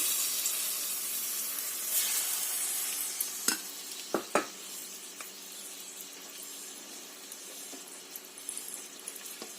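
Chicken sizzles in a tablespoon of oil for a chicken and capsicum curry, a steady bright hiss broken by a few utensil clicks, with no one speaking.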